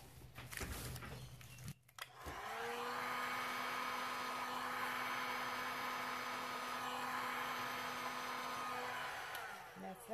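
A heat gun blows hot air over metallic-pigment resin art, starting after about two seconds as a steady, quiet whirring hum that holds for roughly seven seconds before cutting off.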